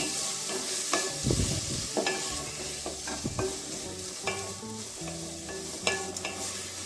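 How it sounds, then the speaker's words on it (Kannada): Onions with curry leaves frying in hot oil in a pan while being stirred, for a brinjal gravy, with a steady close sizzle and repeated scraping spoon strokes throughout, and no talking. "ಈರುಳ್ಳಿ ಹಾಕೋಣ ಚೆನ್ನಾಗಿ ಫ್ರೈ ಮಾಡ್ಕೊಳ್ಳೋಣ"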